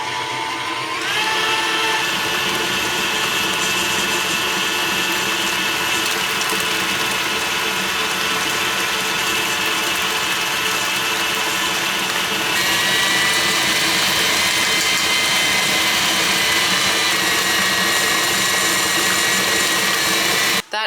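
An electric mixer whips frosting with a splash of milk, a loud continuous motor whir that holds steady for about twenty seconds, shifting slightly in pitch partway through, close up with no speech.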